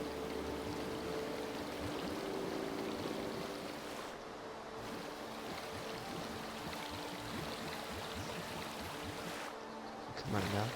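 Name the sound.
waterfall flowing in a video game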